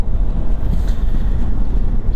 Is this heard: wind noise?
yes